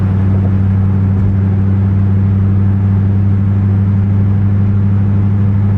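A steady low car engine drone with strong deep hum, constant and muffled as if heard from inside the car, after motor mount replacement, no talking.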